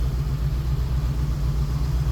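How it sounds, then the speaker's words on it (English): A gasoline engine in a 1985 Ford F700 dump truck with a 5-speed manual transmission runs at a steady idle, giving a close, continuous low rumble with an even throb and no voices. "This truck has a gasoline engine. The motor sounds good, revs up nice."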